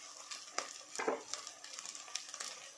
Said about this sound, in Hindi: और हम मसालों को प्याज के साथ भूनेंगे।